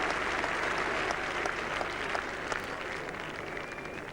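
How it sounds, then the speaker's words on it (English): Applause from a cricket crowd at Headingley during a 1981 England v Australia Test match, a steady distant wash of many hands clapping that holds for several seconds without speech. "Touch of relief in the applause there."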